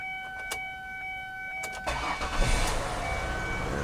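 A 2003 Mazda Tribute engine cranks briefly while a chime pings in the cabin, then catches and settles into a steady, close idle.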